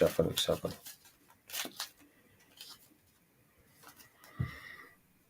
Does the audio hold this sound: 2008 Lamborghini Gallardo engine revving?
no